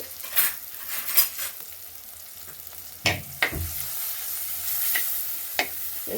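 Onions and chili powder sizzle and fry in a pan over a wood-fired village stove, with a steady crackling hiss broken by several sharp scrapes and stirs from a spoon.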